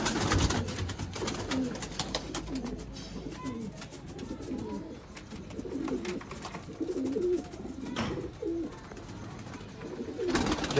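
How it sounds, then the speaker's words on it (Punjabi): A 12-year-old pigeon in a coop coos repeatedly and close by. The low, rolling calls come in steady bursts throughout against a faint background. "ਆ 12 ਸਾਲ ਦਾ ਕਬੂਤਰ ਹੈ"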